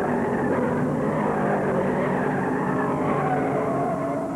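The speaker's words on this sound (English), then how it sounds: "Richard Childress, driving a Chevy, lost it in the third turn, spun all the way around" A 1972 Chevy race car spins out in the third turn at Bristol during a NASCAR race, heard as a dense, steady roar of engines and crowd-like wash, loud and continuous with no clear break.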